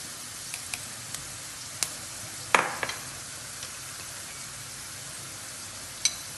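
Onions fry in a pan as coriander powder goes in, a faint, steady sizzle with scattered utensil clicks and scrapes, one louder clatter in the middle.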